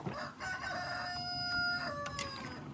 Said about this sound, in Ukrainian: Півник нам співає пісні.